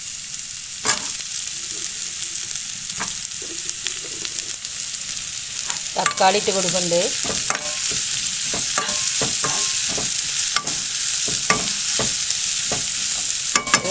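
Green chilies and tomato sauté in a hot pan for a beef curry, a continuous sizzle broken by sharp scrapes and knocks of a spoon stirring, with a brief voice speaking.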